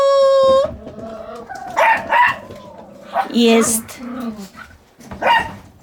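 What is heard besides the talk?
dogs barking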